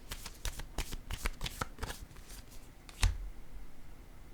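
A deck of tarot cards is shuffled close by in quick riffling bursts for about two seconds. Softer card handling follows, ending in one sharp tap, and no one speaks.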